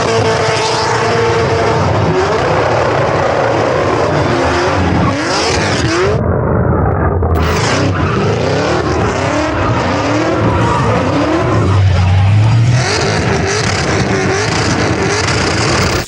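A 700 hp supercharged LS-powered Skyline drifting on a track, its engine revving hard and loud while the tires squeal in long stretches, with barely a pause throughout.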